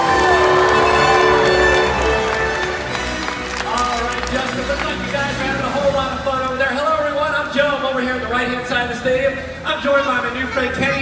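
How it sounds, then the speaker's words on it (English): A SeaWorld Orlando orca show audience cheers and claps. The crowd noise swells loudest at the start, then settles into a broad murmur under a host talking and show music. "let's give him a great big cheer."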